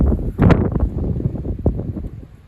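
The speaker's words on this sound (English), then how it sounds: "That's the wind knocking that rod, I think." Gusty wind buffets the microphone in rough, low rumbling bursts, loud and close, by the River Tyne at North Shields, with occasional knocks of the wind striking a fishing rod.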